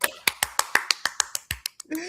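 Rapid run of about a dozen sharp finger snaps and claps from an online open mic audience, evenly spaced and close, ending with a brief voice at the end.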